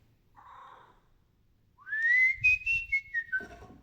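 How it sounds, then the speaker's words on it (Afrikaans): A person gives a rising, warbling whistle to call a cat, clear and close, following a softer, lower whistle note, with faint handling sounds in the background. "Het jy nog nooit voor hom gefluit nie?"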